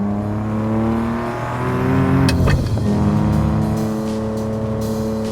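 A Ferrari 575M Maranello with manual gearbox and a sharper throttle setting, its engine droning loudly from inside the car, rising in pitch, dipping with a quick gearshift, then pulling hard again.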